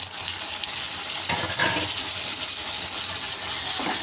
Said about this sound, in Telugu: ఇప్పుడు టమాటాలు అయితే వేసేసుకుంటున్నాను నేను.